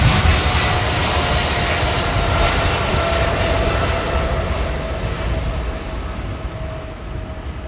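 A Boeing 777 jet arriving on runway 27R roars loudly and close with a broad, steady jet rush and a faint whine, gradually fading as it passes.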